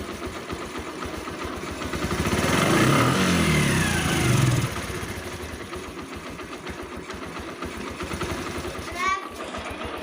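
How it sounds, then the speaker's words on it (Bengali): A Bajaj CT 100 motorcycle engine idles with a steady low putter that swells louder for a couple of seconds and then settles. A person talks over it throughout. "এই যে দেখেন স্টার্ট হয়ে গেছে"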